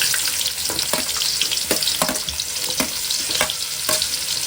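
Large onions frying in hot oil for chicken fried rice, steady loud sizzle with occasional scraping stir strokes, close and continuous with no talk.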